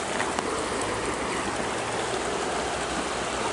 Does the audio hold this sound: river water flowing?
yes